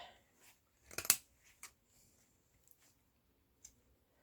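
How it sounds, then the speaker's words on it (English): Scissors snip through a piece of burlap in a quiet room, with one sharp, crisp cluster of cutting clicks near the start and a few fainter, scattered snips around it. No voices. "cut a piece of the burlap"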